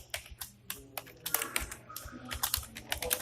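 Keys on a computer keyboard clatter in an irregular run of close, crisp taps as code is typed, with short pauses between bursts and no voices over them.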